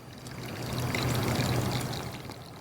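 Water pours steadily onto a garden bed being planted with amaranth, a continuous close splashing flow that swells in the middle and stays alone without talk.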